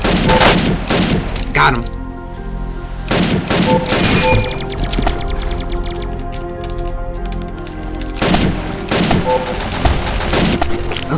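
Rapid bursts of automatic gunfire in a video game, loud and close, with several clusters of shots separated by brief pauses, and a voice speaking briefly over the shooting.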